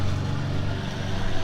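Lawn mower engine running outdoors while cutting weeds, a loud, steady low droning rumble throughout the short stretch.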